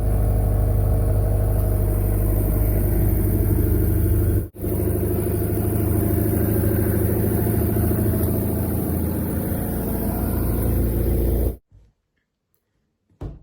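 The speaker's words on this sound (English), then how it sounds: "the car running outside on the fast idle" A car engine runs on a fast idle outdoors, a loud, steady, even drone that holds for about eleven seconds before cutting off abruptly into near silence.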